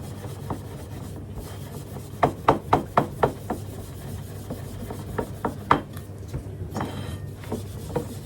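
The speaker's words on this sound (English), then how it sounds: "So, slightly damp cloth, pink stuff, and rub like fury basically." Scrubbing with a slightly damp cloth and pink stuff cleaning paste: a close burst of quick rhythmic rubbing strokes, then scattered scuffs and knocks over a low steady hum.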